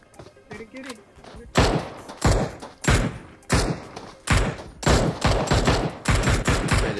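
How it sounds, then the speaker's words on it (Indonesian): Bursts of gunfire in the PUBG Mobile battle royale on the Miramar map, heavy repeated shots and rapid volleys coming in loud clusters, with a voice talking over parts of the action. "Wih, ada yang nembak dari mana, wih?"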